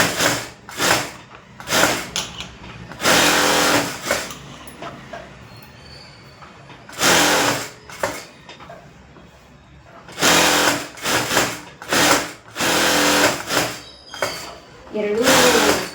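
A sewing machine stitches blouse lining in short loud bursts, starting and stopping repeatedly, with someone talking in the pauses between runs.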